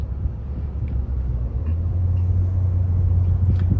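A vehicle driving on a paved road on a route toward a construction site in Ghana, heard as a steady, loud low rumble of engine and tyres from close inside, building slightly and continuing without a break.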